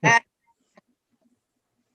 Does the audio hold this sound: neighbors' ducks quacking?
yes